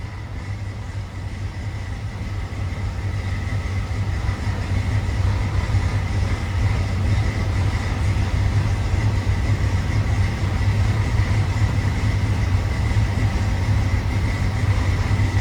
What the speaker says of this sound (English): Let's crank the AC on sitting here idling.